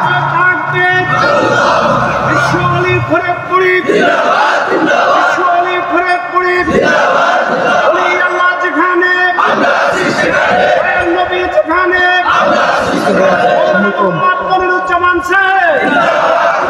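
A large crowd chants in loud, rhythmic unison at a religious gathering, surging voices rising and falling in repeated waves throughout, dense and close with no pauses.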